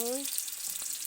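Food frying in a hot pan (kawali), giving a bright, steady hiss throughout this short moment, with a brief voice-like tone at the start.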